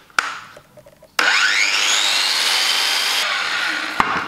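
A Makita 9-inch angle grinder running on AC from a portable power station: a sharp click, then a loud, steady high whine as it spins up and holds speed for about two seconds before cutting off abruptly, followed by another click.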